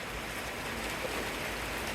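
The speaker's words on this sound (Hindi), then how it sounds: "अचानक इतनी तेज़ बारिश" Heavy rain pours down steadily during a storm with strong wind in Karachi, a dense, constant hiss of drops hitting surfaces close by, with no voices.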